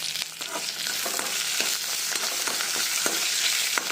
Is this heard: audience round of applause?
no